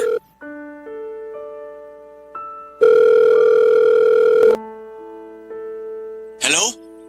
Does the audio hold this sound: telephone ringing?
yes